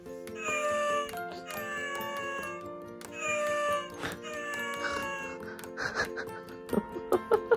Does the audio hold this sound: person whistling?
no